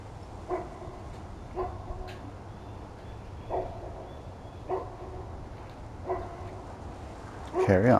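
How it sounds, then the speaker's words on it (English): A dog barks outdoors on a woodland walk, and each bark echoes. Single barks come about every second or two, then a louder, busier burst closes the clip. "When you bark, you get to echo, don't you, buddy?"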